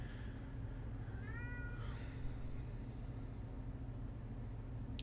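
A house cat meows once or twice nearby, a short rising-falling cry over a low steady room hum, followed by a brief rustle.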